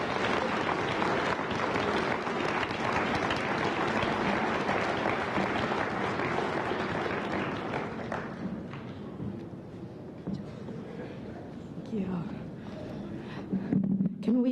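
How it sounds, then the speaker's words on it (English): A commencement audience bursts into sustained loud applause for a speaker, dense clapping filling the hall for about eight seconds before thinning into scattered claps and a murmuring crowd, with a brief surge of noise near the end. "one more round of applause"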